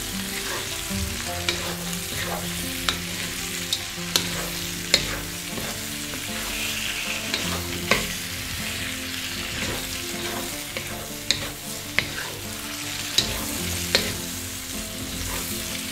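Tofu stir-fries in a hot pan for a Chinese black bean sauce dish, giving a steady loud sizzle and crackle with periodic sharp clinks and scrapes of a utensil stirring, no voices.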